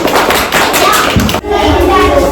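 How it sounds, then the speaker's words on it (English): Children clapping for a classmate, Sanskar, in a classroom: a loud, dense patter of many small hands applauding close by, briefly dipping before continuing, with children's voices mixed in. "Shall we clap for Sanskar, friends?"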